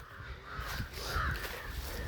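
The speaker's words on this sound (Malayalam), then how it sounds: "നല്ല കാക്കയൊക്കെ ഉണ്ട്." Crows caw during a forest trek up a hill in Kerala, a few faint distant calls over quiet outdoor ambience, brief and without talk.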